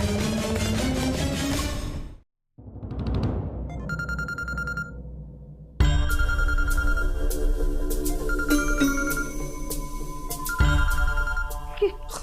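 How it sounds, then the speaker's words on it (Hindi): A telephone rings repeatedly indoors in a Hindi TV drama scene, its bright electronic ring pulsing loud and near over dramatic background music, with a short break early on before the ringing resumes. "दुआ हेडक्वार्टर से जासूस रवि के लिए फोन आ गया।"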